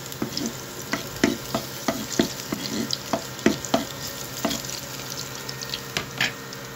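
Dilis, small dried anchovies, fry until brown, a low steady sizzle broken by regular stirring clacks of a utensil against the pan, close and with no voices.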